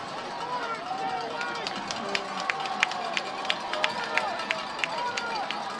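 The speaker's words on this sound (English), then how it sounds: "what a great crowd we have here on homecoming" A homecoming crowd in the bleachers at a Fredonia versus Gowanda high school varsity football game makes a steady murmuring hubbub with scattered sharp claps and shouts, under voices talking in the foreground.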